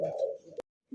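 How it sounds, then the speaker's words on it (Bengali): A big Holland Jacobin pigeon gives a single short, close coo, which ends in a sharp click followed by brief silence. "বিগ সাইজের এক জোড়া হল্যান্ড জ্যাকোবিন"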